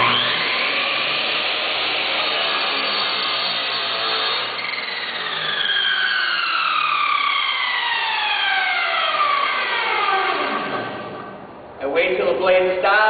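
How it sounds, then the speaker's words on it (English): A miter saw blade spinning at full speed slices a thin 1/8-inch sliver off the end of a wooden board, a loud sustained whine with falling pitch as the blade spins down, ending in a brief clatter. "I bring the blade down, so I'm just cutting a little bit off, about 1/8 of an inch."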